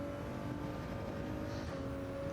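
A Ford GT race car in Gran Turismo 7 brakes into a corner on the Sardegna road course, its engine note a faint, steady drone under the track noise.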